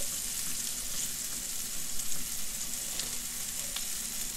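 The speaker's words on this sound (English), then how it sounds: "My stock is at a boil, so I'm just gonna let it simmer" Stock in a pot at a boil, settling to a simmer, giving a steady hissing, bubbling sizzle with faint pops and no talk.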